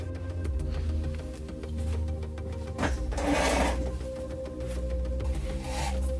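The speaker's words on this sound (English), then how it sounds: "put a zigzag stitch, same color thread, about an inch up, just all the way around" A sewing machine runs a zigzag stitch through robe fabric, a steady close mechanical whir with a brief pause and a short clack partway through.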